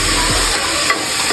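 Curry leaves frying in hot oil for dum biryani, stirred in the pan, giving a short, close, steady sizzle with soft scraping movements.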